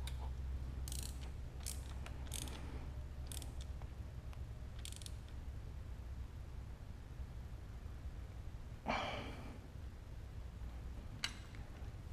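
A wrench ratchets while tightening a bolt on a Porsche 944 during an LS engine swap, giving faint clicking bursts in short runs over a steady low hum, with a louder clunk near the end.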